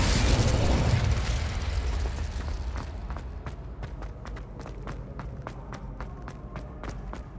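Spell explosions from the video game Hogwarts Legacy: a loud, deep blast at the start fades into a dense run of sharp, rapid cracks and pops, with steady ambient game rumble underneath and no talk.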